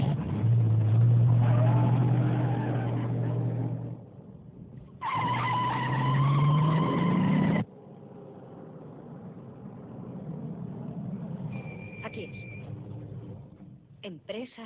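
A car drives off with a loud engine and sharp tire skidding in two bursts, then quieter rumbling with someone speaking over it.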